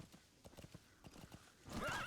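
A horse in the video game Metal Gear Solid V trots with steady, fairly quiet hoof clip-clops, then gives a short whinny near the end.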